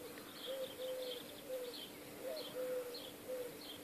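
Garden birds call at morning feeding time, with soft repeated cooing and thin chirps coming in short bursts at a moderate distance against a quiet background.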